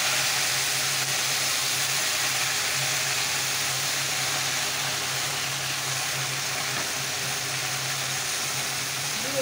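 Water spinach (kalmi saag) sizzles in hot oil over reddened garlic in a home kitchen, a steady close frying hiss with a low hum beneath and no talking.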